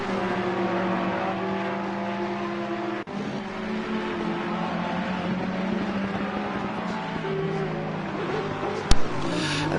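Porsche and Ferrari race cars lapping the Zolder circuit, steady loud engine drone with shifting tonal pitch as they run through right-hand corners, with a sharp click near the end.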